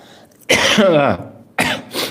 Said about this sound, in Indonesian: Maafkan saya batuk terus ini.